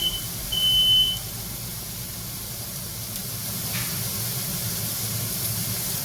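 One brief high-pitched smoke alarm beep sounds near the start, then stops. Burgers keep sizzling with a steady, loud hiss on a hot pan in a home kitchen.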